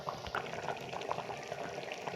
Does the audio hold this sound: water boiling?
yes